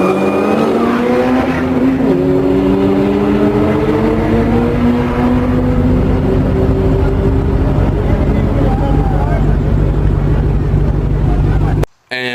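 Honda Civic EK drag car making a 12.0 second quarter-mile pass at 125 mph, a loud continuous engine roar with rising pitch through the gears, close and sustained until it cuts off abruptly near the end.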